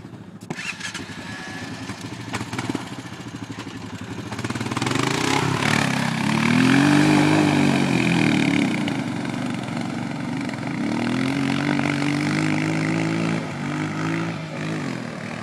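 A four-wheeler ATV engine runs during mudding on Hatfield-McCoy trails, idling roughly at first, then revving up loud and close and holding a sustained, throbbing throttle.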